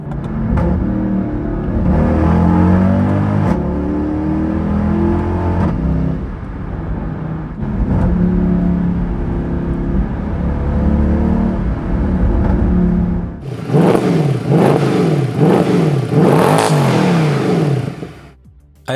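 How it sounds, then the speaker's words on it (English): A Mercedes-AMG E63 W212 engine revs through a series of downshifts, loud and close, with repeated blips and sharp throttle rises, then a brief pause before a harder, brighter rev burst near the end. "Those downshifts with this engine and transmission are really something else."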